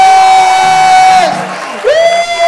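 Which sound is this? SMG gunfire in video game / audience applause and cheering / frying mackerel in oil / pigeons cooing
audience applause and cheering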